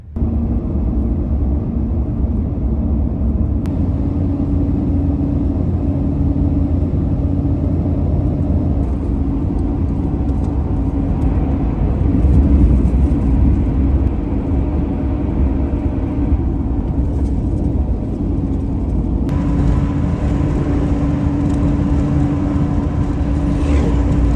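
A 1969 Dodge Charger cruising down the road on a long road trip, its engine a steady low rumble with continuous road and tire drone throughout, fairly loud and close, with no talking.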